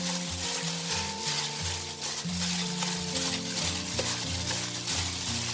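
A sauce mixture is stirred in a pot until the sugar dissolves, for a dipping sauce served with shrimp dumplings. It makes a continuous soft scraping and sizzling hiss over steady background music, with no talking.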